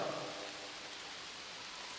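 Heavy rain falling in a steady, faint hiss, continuous with no other sounds.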